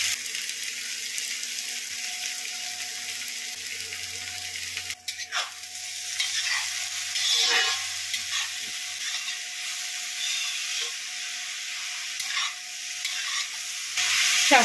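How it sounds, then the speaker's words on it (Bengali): Drumstick leaves and mixed greens fry in a pan for Bengali fourteen-greens shak, with a steady sizzling hiss broken by scraping stirs and occasional spatula knocks, close and without talk. "শাকটাকে বেশ নাড়াচাড়া করে ভালো মতো ভেজে নিচ্ছি।"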